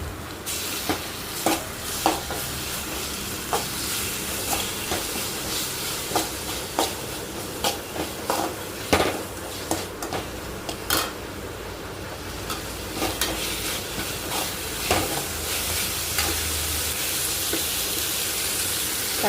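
Green chillies and ginger garlic paste sizzle in oil for a chicken curry, a continuous hiss of frying broken by regular scraping stirs of a spoon against the pan, close and steady with no talk.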